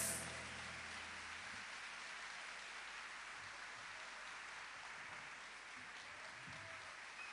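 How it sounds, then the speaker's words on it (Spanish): An audience claps loudly and steadily after a folk duo's song, a dense, sustained wash of applause that starts at once and holds at an even level, with no voices over it. "Fuerte el aplauso."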